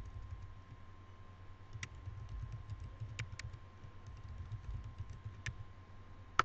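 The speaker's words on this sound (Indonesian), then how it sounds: "Passwordnya diketik." A password is typed on a computer keyboard: sparse, faint key clicks spaced irregularly over a low background hum, with one sharper click at the end and no speech.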